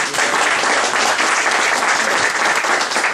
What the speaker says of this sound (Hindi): यीशु के लिए तालियां जरूर बजाएं प्लीज।